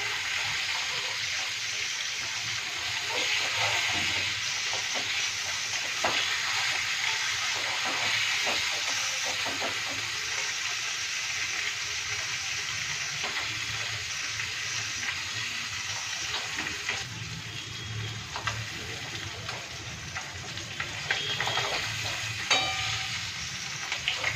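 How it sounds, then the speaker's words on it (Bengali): Parshe fish frying in a pan gives a steady, fairly loud hiss and sizzle that runs throughout, with occasional soft clicks from stirring and no talking. "ভালো করে ভেজে নিচ্ছি।"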